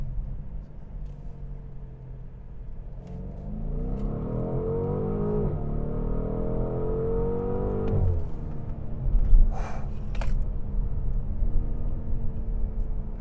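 A 2019 BMW M850i xDrive engine accelerates hard down a straight, its note climbing steadily in pitch, briefly dropping at a gear change, then rising again as it pulls through the next gear.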